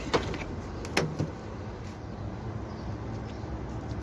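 The back doors of a 2010 Ford E150 camper van open with a couple of sharp latch clicks and a short rattling thud near the start, then a quiet steady background with no talking.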